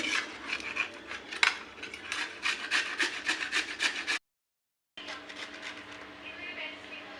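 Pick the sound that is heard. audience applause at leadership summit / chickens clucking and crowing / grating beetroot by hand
grating beetroot by hand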